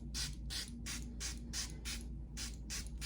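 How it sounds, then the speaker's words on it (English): Face mist pumped from a weighty glass bottle in nine quick, strong spray bursts at a steady rhythm, close and crisp, with no speech. "it's a pretty strong spray"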